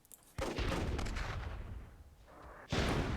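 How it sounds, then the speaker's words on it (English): Cannon fire in the WWII-themed Myth II Soulblighter game: loud, booming blasts with a sharp onset near the start, a long rumbling decay, then another heavy blast at the end, with no talking over them. "There goes my cannon."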